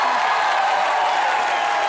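Dense, steady applause from a large studio audience at a live Hindi comedy show filmed in Dubai, a continuous broadband clatter that fills the whole moment without pause.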